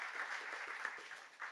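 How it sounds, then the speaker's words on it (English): Audience applause at a technology showcase panel on unmanned airspace, a steady burst of clapping from a crowd heard at moderate distance. "Can I have a round of applause for our sponsors?"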